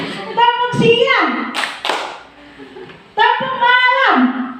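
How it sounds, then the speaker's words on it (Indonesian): Group of Indonesian teachers claps in brief rhythmic bursts during a clap game, between spoken and chanted voices; the claps are near, loud and sharp, arriving in short clustered patterns. "Tepuk siang."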